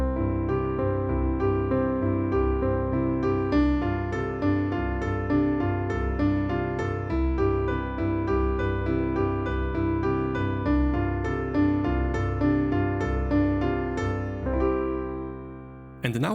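Piano chord sequence played with both hands, steady repeated chords in a beginner exercise, sustained and continuous throughout, fading near the end, no voices.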